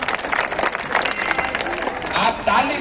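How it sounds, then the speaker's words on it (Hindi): Crowd clapping at an outdoor political rally in Bihar, a busy mix of hand claps and murmuring voices from a large gathering, fairly loud and rising again near the end. "आप ताली बजा रहे हैं"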